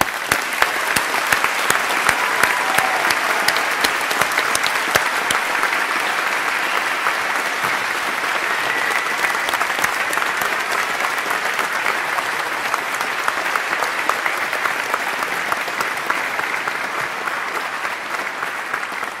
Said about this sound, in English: join me in applauding this magnificent collection of graduates in front of us